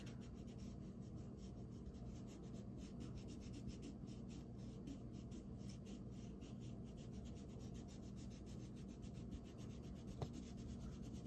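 Steady, soft scratching of a crayon coloring on paper, close and continuous with fine rhythmic strokes, heard alone without talk.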